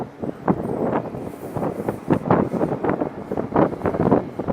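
Wind buffets the microphone at the Amoreiras 360° viewpoint in Lisbon, a continuous low rumbling roar with gusty surges throughout.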